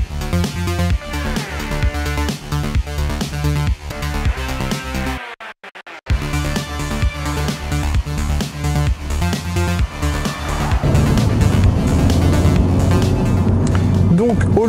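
A 2016 Ford Focus RS, a German-built all-wheel-drive four-cylinder hot hatch, driving off and accelerating with a steady, loud engine drone through the gears. A brief drop marks a shift, and the engine note rises and thickens toward the end.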